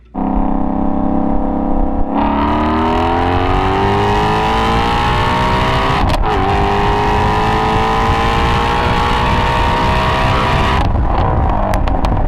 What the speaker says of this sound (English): And now I'm going to do a 40 roll on second gear all the way to third gear.